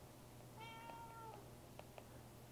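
A house cat gives a single drawn-out meow, faint and close, over a low steady hum, followed by a couple of small soft clicks.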